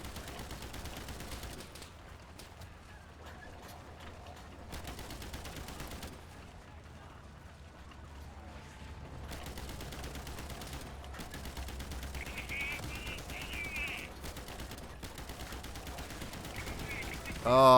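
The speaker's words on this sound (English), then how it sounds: "that machine gun fire is so effective" Machine gun fire in the World War II shooter Easy Red 2, set in a Stalingrad battle, rattles in long continuous bursts with a few short breaks, heard at a distance rather than close up.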